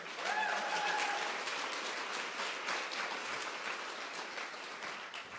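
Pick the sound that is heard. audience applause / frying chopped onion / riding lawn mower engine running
audience applause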